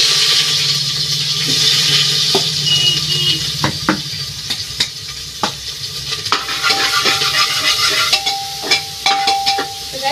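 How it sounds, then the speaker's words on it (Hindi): Onion frying in hot oil with roasted red chilli gives a loud, steady sizzle close up, broken by sharp scrapes and clanks of a spoon stirring in the pan, with no talking. "प्याज डाल दी हूँ, खूब अच्छे से प्याज को तो भून दूंगी"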